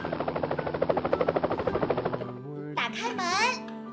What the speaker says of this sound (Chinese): 这是一架救援飞机